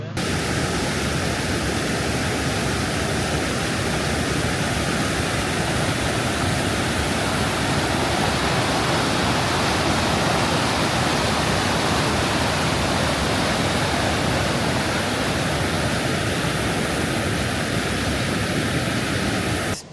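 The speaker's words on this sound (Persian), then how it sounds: "آبشار وردوج یک از بهترین آبشارهای بدخشان است" Wardoj waterfall in Badakhshan, Afghanistan roars as a steady, dense rush of falling water, loud and constant throughout with no pauses or voices.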